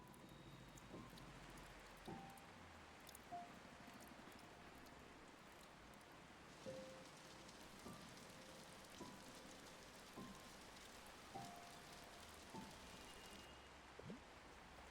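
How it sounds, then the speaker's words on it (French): Steady, soft rain falls in the video game Until Then, a continuous hiss of drops on a surface with faint periodic taps, fairly quiet and without voices. "Et maintenant, il pleut des cordes."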